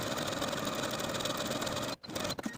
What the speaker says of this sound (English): I'm just going to take it to my sewing machine and finish these edges